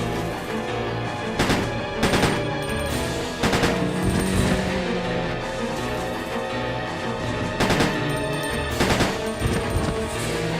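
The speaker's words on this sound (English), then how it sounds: "Takes about 6 to 9 shots to kill a zombie." Repeated gunfire from shooting zombies in the video game Resident Evil Code Veronica X, loud sharp shots in several quick bursts and single blasts spread across the clip over a droning game soundtrack, with no talking.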